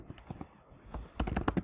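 Fast typing on a computer keyboard while entering MySQL table definitions, a quick run of close, sharp key clicks that thickens into a denser burst toward the end.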